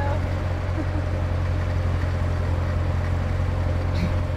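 A stock Chevrolet Corvette Z51 Stingray's engine purrs steadily in a low, even drone, close and constant throughout with no voices over it.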